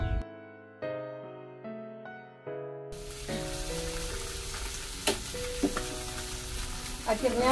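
Fish pieces fry in a small pan with a steady, close sizzling hiss, preceded by a few sustained tonal notes, with occasional pops and stirring clatter.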